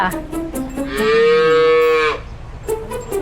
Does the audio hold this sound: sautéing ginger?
no